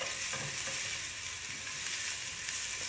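Food fries in a pan over medium-high heat, a continuous bright sizzle with soft stirring scrapes, fairly quiet and without voices.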